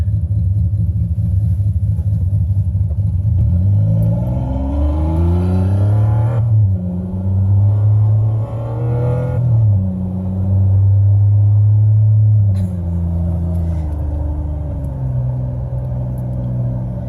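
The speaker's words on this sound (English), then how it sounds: "this is a flat 6 race engine, maybe something like from a Porsche" A simulated flat-six Porsche GT3 race engine plays through a car's sound system, a loud continuous rumble with rising and falling revs, sharp shifts and blips, no talking over it.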